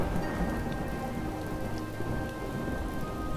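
Heavy storm rain pours steadily on surfaces with a low rumble of thunder underneath, a dense, continuous hiss with no voices.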